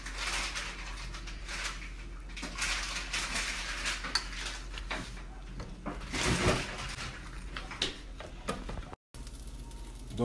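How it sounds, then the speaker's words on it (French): Attiéké is stirred with oil in a dish, giving soft scraping and light clinks of a utensil against the bowl in uneven bursts, fairly quiet against a kitchen background. "Puis on mélange avec de l'huile."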